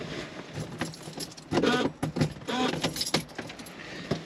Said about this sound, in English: Right, let's turn the ignition on.